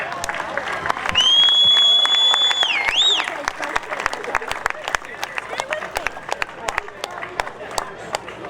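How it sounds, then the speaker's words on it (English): A crowd gathered outdoors at a sand sculpting event gives a round of applause, scattered claps rising loudly and then thinning to sparse individual hand claps. A whistle-like tone sounds briefly early on, and voices murmur underneath. "And one more round of applause here."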